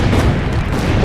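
Cannons fire in a heavy, continuous barrage in the game Assassin's Creed Brotherhood, deep booms blurring into a loud, dense roar.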